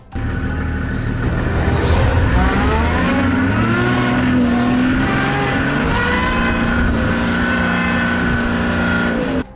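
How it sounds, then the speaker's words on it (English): A safari vehicle floored in reverse to escape a charging elephant, its engine roaring loud and close with rising revs throughout, steady and continuous with no talk. "He floors it in reverse and gets away from the animal."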